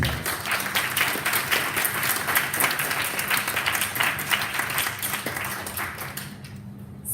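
A round of applause from an audience at a respectful relationships event, steady and fairly loud clapping that carries on for several seconds before tapering off near the end.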